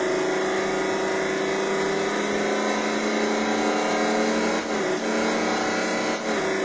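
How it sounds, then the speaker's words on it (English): Two-cylinder motorcycle engine in the racing video game Riding Spirits 2, a steady droning hum at constant pitch held loud and unbroken, with two brief dips near the end. "This must be a 2-cylinder bike."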